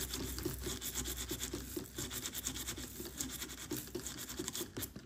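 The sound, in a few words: small brush scrubbing inside a device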